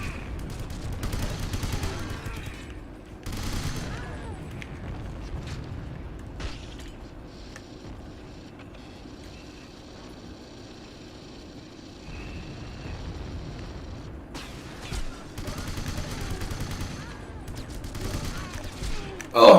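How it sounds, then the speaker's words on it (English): Shotgun blasts from a PS2 co-op shooter, a cluster of sharp bursts and rattling volleys amid in-game noise, with players talking over the action. "It was a shotgun."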